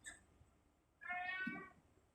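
A single drawn-out cat meow, fairly close and clear, rising out of a quiet room after a moment of near silence.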